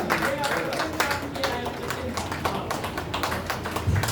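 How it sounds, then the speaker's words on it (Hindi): Enthusiastic applause from an audience at a Hindi poetry gathering, a steady patter of many hands clapping throughout, fairly close and loud. "एक बार जोरदार तालियां हो जाती है"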